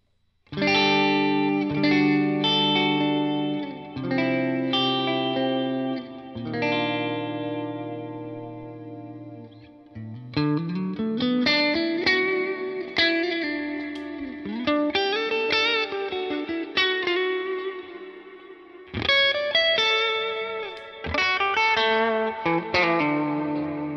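An electric guitar played through a Line 6 Helix HX Stomp low-gain preset, a mildly driven tone with chorus and echo, strummed chords and single-note lines ringing out loud and alone.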